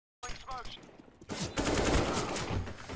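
Rapid automatic gunfire in a shooter video game, bursting in after a moment of silence and running as a dense, loud stream of shots with a brief voice near the start.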